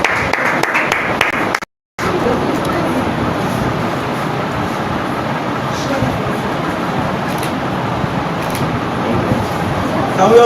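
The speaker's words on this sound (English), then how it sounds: "Can we also give a round of applause for Emmanuel Boni Benedict? Can we clap?" Dense, sustained applause from a training-session audience for a participant, steady and fairly loud throughout after a brief cut-off near the start, with background voices mixed in.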